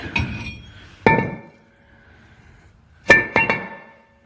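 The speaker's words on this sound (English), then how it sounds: "get your hammer and give your rotor a few smacks because it's going to be seized on there" Sharp metallic hammer blows strike a seized front brake rotor on a 2011 Dodge Ram 1500 4x4, one, then another, then a quick cluster of three, each ringing briefly before fading.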